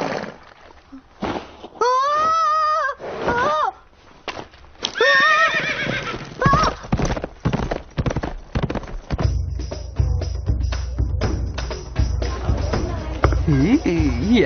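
Animated horse in a Tibetan setting neighs and whinnies loudly several times while hooves clip-clop, joined later by crowd babble and voices from a busy street scene.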